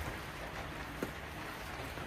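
Rain falls steadily during a heavy downpour around a house, a soft, even hiss of drops hitting surfaces with a faint brief tap midway, quiet and without voices.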